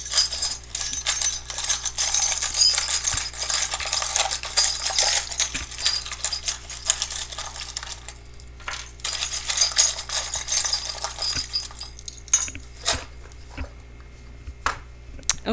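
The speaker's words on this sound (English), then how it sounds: "I just shuffle around until I feel like it's time to pull some charms out." Small metal charms jingle and clink as they are shuffled by hand, a dense, close rattling that comes in bursts with brief pauses.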